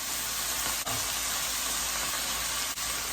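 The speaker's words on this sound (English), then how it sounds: "I'm going to add my onions" Chopped onions sizzle in a hot pan seasoned with Italian seasoning, a steady close-up hiss that runs evenly throughout with no talking.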